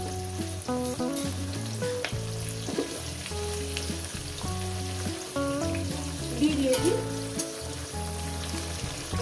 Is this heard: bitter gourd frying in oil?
yes